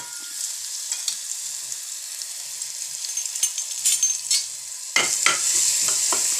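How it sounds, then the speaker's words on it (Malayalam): Hot oil sizzles while mustard seeds crackle and pop in quick irregular bursts, growing busier and louder toward the end. "എണ്ണയ്ക്കകത്ത് കടുക് പൊട്ടിച്ചൊക്കെ ചക്കയും കൂടി ഇട്ട് റെഡിയാക്കാൻ പോവാണ്"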